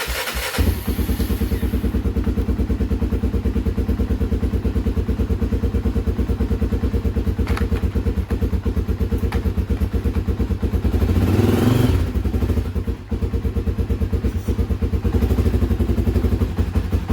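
A Honda ATV engine from a TRX 300EX, TRX 90 and Recon lineup idles steadily nearby after a carburetor cleaning, a loud even putter with a brief rise in revs near the end and no talking.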